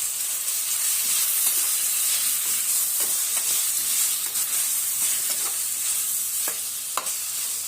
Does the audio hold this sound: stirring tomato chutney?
yes